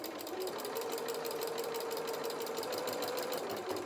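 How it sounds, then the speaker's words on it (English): A sewing machine runs steadily for several seconds, a fast even rattling hum of stitching around the toe of a small fabric bear, close and alone. "keep sewing round"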